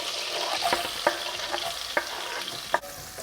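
Onions soften in melted butter in a pan, a soft constant sizzle broken by a few sharp clicks of a utensil stirring against the pan, about every second.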